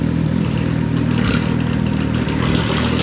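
Loud, steady engine roar from a Suzuki GSX 750 motorcycle with an open exhaust pipe, revving in street traffic, close by and continuous with a deep rumbling drone throughout.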